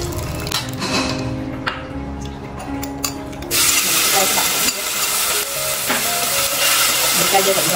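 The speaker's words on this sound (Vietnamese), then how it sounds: "Rồi mình sẽ chiên sơ qua, mình gắt thêm." Ingredients for a vegetarian macaroni soup frying and sizzling in a pan, with stirring and scraping; the sizzle grows louder and steadier partway through and continues close up without talk.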